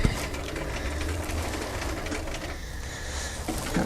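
A child runs a toy sewing machine, its steady mechanical whirring holding at an even level throughout with small shifts in pitch and pace.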